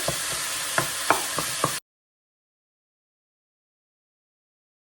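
Minced garlic and other ingredients sizzling and browning in a pan, with a few distinct scraping stirs over the steady fry, close by, before the sound cuts off abruptly.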